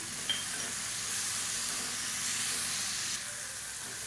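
Tomato, onion and roasted peanuts sauté in a pan for egg chutney, giving a steady, soft sizzle and hiss with faint stirring, close and without talk.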